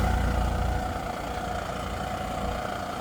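A 45 HP Farmtrac tractor engine runs throughout in high first gear at a constant idle-like pace, a low, even rumble with no other sounds on top.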